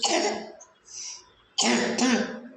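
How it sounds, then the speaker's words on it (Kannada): A child coughs and clears their throat in a few short bursts, close and fairly quiet, with brief pauses between. "ಸ್ವೀಟ್ ತಿಂದರೆ ಕೆಮ್ಮು ಬರುತ್ತೆ ನೋಡಿ"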